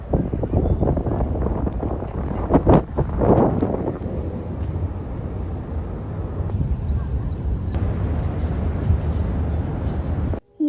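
Wind gusts along the Brooklyn shoreline, a dense low buffeting rumble across the microphone that holds steady throughout, with faint background traffic and no one talking.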